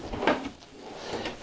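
A large kitchen drawer in a 2023 DRV Luxury Suites Houston fifth wheel slides open and shut with a couple of soft wooden knocks, close and fairly quiet.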